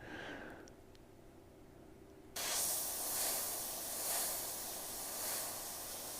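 An airbrush sprays paint onto a creepy dollar store decoration with a steady, breathy hiss that starts abruptly after a quiet moment and continues close and even, pulsing slightly in strength.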